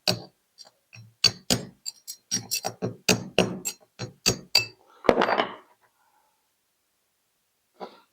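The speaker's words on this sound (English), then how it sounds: "Now having a weld done there, you've actually got something to tap onto as well." Hammer tapping on a front wheel bearing of a 1977 VW Bus camper, a run of sharp metallic knocks in uneven rhythm, close and loud, followed by a brief clatter and a final faint tap after a pause.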